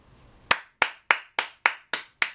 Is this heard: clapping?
yes